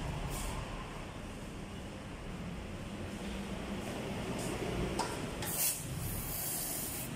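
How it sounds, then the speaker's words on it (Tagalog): RS8 jet spray CVT cleaner degreaser hisses out of an aerosol can in a long, steady spray, close and continuous, with a few brief clicks near the end. "RS8 degreaser, jet spray CVT cleaner degreaser."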